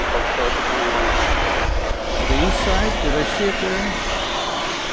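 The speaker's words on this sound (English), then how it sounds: "Volaris coming in from Mexico City, flight 4800 and Airbus A321 Neo." A Volaris Airbus A321neo landing at DFW from Mexico City, its engine roar loud and continuous throughout, with a person speaking briefly over the noise.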